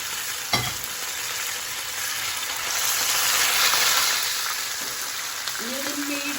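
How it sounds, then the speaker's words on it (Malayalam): Spiced fish frying in hot oil gives a steady, close crackling sizzle across the whole stretch, swelling slightly in the middle, with a brief knock near the start and a faint hum. "എണ്ണ ചൂടായിട്ടുണ്ട്. ഞാൻ മീനിനകത്തേക്ക് വെക്കുകയാണ്."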